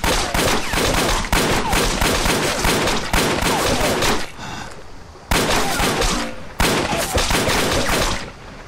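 Loud bursts of gunfire in a Chinese anti-Japanese war drama, rapid volleys of shots in several long salvos separated by brief pauses.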